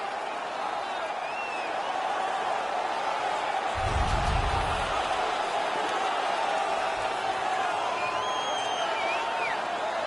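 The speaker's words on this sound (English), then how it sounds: "The crowd is all over them right now" A hockey arena crowd in the game NHL 19 roars as a steady, broad wash of cheering throughout, with a brief low thump in the middle and a commentator's voice running over it.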